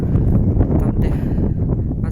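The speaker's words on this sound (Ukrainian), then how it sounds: "зараз вітер і трохи проліта сніжок" Winter wind buffets the microphone in loud, rough gusts as light snow falls on a rural homestead, a steady roar with brief dips and swells over a couple of seconds.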